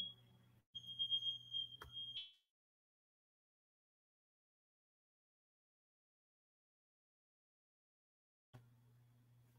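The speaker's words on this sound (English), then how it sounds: "That fire alarm be tripping." A smoke or fire alarm trips in a room, giving a loud steady high-pitched electronic tone for about two seconds over a low hum before cutting out, followed by a long silence.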